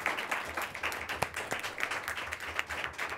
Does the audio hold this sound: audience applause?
yes